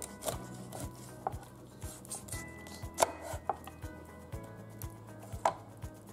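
Knife chopping through a catfish on a board, steady thuds at an uneven pace, close and fairly quiet, some strokes sharper than others, with faint kitchen clatter in between.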